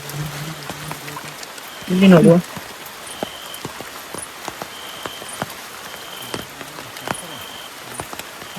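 Heavy rain falls at night in Mangalore during a crab hunt, a steady wash of patter and dripping drops throughout. A person speaks briefly over the downpour.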